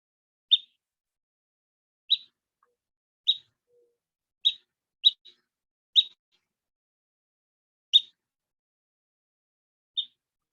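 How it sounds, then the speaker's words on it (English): A flycatcher in southern Nevada gives a short, high peep call, repeated about eight times at irregular intervals of roughly one to two seconds, clear and isolated against silence. "And its call is a peep."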